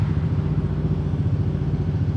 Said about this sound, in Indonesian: Udah kita hidupin aja kayak apa bunyi dari knalpot full speed